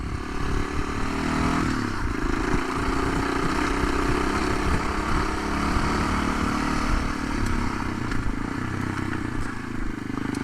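A dirt bike ridden along a maintained gravel road, its engine droning steadily with a constant crunching, crackling rumble of tires on loose stones.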